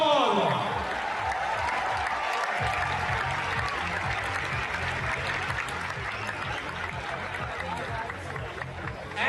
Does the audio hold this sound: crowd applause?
yes